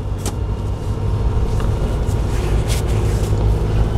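A 2.5-ton manual-transmission truck accelerates from a stop on a driving-test course, its engine rumbling low and steady throughout with a few faint higher clicks over the drone.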